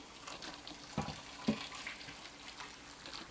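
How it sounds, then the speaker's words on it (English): Boiling water splashes and trickles into a pot of kousa in uneven gushes, with a couple of louder knocks, close and fairly quiet, no voices. "Now cover it with boiling water."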